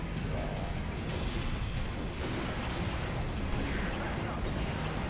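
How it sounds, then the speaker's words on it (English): Gunfire and explosions during a battle at Sword Base in Halo Reach on Legendary difficulty, with sniper rifle fire among them: a dense, continuous roar of blasts and shots with no pauses, a player talking over it. "come over here and grab this sniper rifle"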